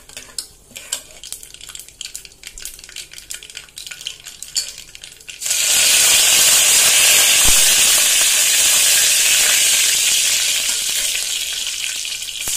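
Curry leaves dropped into hot oil after spluttering mustard seeds for a kozhi kulambu: sharp scattered popping crackles at first, then a sudden loud, sustained sizzle that hisses steadily, with no voices.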